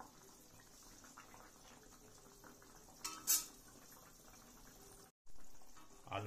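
Potatoes simmering in a pot of water while biryani is cooked at home, a steady low bubbling hiss with a brief louder clatter midway and a short gap near the end.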